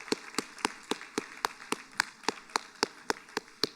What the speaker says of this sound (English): let's give them a round of applause as they leave the stage